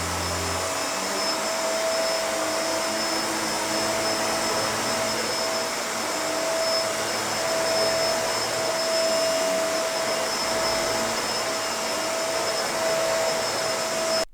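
A Bissell MultiClean Allergen Lift-Off vacuum runs steadily on plush carpet mode while sucking up flour, giving a loud continuous motor whine with a high airflow hiss and no talking.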